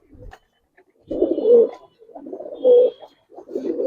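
Budapest high flyer pigeons in a loft coo in repeated soft, throaty bursts, several overlapping calls rising and falling close by with short pauses between them.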